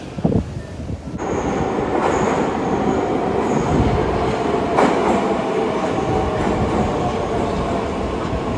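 A green Saint Petersburg Metro train pulls into an underground station, a steady loud rumble of rolling wheels and rail clatter with brief squeals, heard alone without talk.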